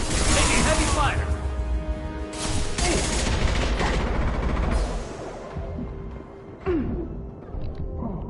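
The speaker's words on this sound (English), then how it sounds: "Taking heavy fire!" Heavy automatic gunfire rattles through a sci-fi video game battle, dense bursts of shots with whooshes and mechanical clatter, loud and close, with voices speaking over the fighting.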